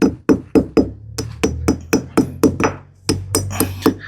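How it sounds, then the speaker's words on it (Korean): A hammer drives a plastic wall anchor into a drilled hole in an exterior wall, with about sixteen sharp, loud, close strikes at a steady, fairly quick rhythm. "요거를 이렇게 넣어준 다음에 망치로"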